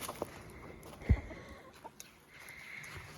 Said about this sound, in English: We have chickens.